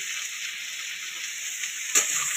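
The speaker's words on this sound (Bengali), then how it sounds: "এখন কুমড়ো আলু ভাজা হচ্ছে" Pumpkin and potatoes fry in a pan with a steady, close, hissing sizzle that stays even throughout, broken by one brief clatter near the end.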